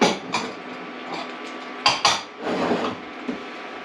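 Pre-cooked, deveined shrimp and beef are stirred together in a pan for chow mein, with a close metal utensil clinking and scraping the pan in scattered knocks and a couple of sharp hits.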